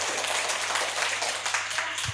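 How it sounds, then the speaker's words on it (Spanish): An audience at a literary-week conversation with a writer claps steadily, a dense, even round of applause filling the whole moment. "Le damos un aplauso a nuestro escritor de hoy"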